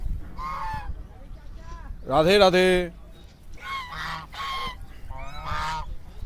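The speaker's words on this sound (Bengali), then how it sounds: "খুব সুন্দর এই পাখিগুলো, কি সুন্দর এই জায়গাটা।" Large birds, sounding like geese, honk at a lake in Nandagaon. Several loud, close honking calls come in bursts, with a person chanting in between.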